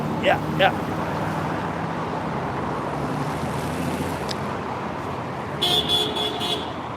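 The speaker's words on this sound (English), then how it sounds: "Somebody honks, then another person honks." Car horns toot amid steady roaring traffic: a quick double honk first, then a longer, pulsing honk near the end.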